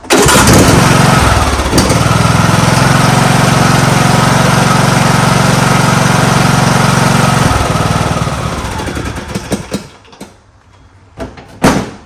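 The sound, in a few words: John Deere lawn tractor Briggs 19.5hp engine starting and running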